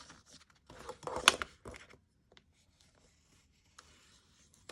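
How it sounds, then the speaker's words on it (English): A paper book page being creased and folded by hand for a collage pocket: a few close, dry rustles and crinkles bunched in the first two seconds, then near silence with one faint rustle at the end. "now I'm gonna take it and fold it"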